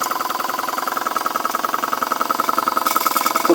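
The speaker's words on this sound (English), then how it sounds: "So now she's at about just gone 20 psi on the boiler, and we're still idling" A Boucher S62 steam engine idles with a fast, even chugging pulse, boiler just over 20 psi, steady and fairly loud throughout, a faint hiss joining toward the end.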